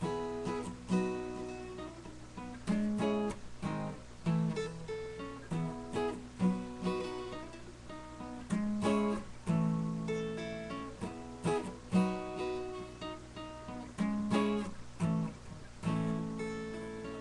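An acoustic guitar strums a repeating rhythmic chord pattern, close and moderately loud, with no voices.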